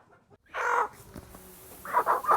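Farm chickens cluck nearby ahead of processing. One loud cluck or squawk comes early, then a short run of three quick clucks near the end, with quiet farmyard background between them.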